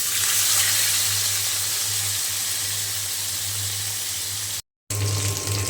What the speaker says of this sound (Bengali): আমি এখন এই যে মাছ ভেজে নেব,